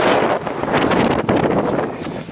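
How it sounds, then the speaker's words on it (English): Wind buffets a microphone outdoors on a walk, a loud, steady rumbling roar with gusty surges and brief dips, and no one speaks over it. "the wind blowing it"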